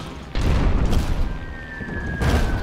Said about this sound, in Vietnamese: Bắn pháo rồi, bắn nã vào pháo của kẻ địch.